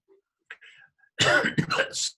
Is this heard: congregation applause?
no